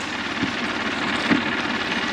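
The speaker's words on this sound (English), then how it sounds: "he might want to stop the tractor" A tractor engine running steadily during a pumpkin harvest, a continuous droning rumble with a couple of faint knocks, no talk over it.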